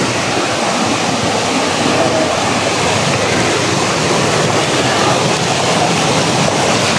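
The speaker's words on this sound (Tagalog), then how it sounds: "oh, ang lakas ng tubig." Strong, steady rush of flowing water in a forest, loud and close, a continuous broadband roar with no pauses and no voices.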